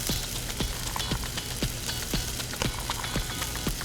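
Small-diced local carrots sautéing in a hot pan, a steady broadband sizzle with scattered crackles and pops running continuously, close and moderately loud.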